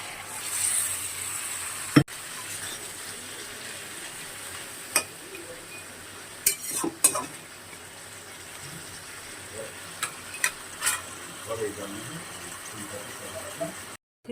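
Fesha fish simmering in spice paste with a little water for a spicy curry, a soft steady sizzle and bubbling in the pan, punctuated by a few sharp clicks and scrapes of stirring, with no talking.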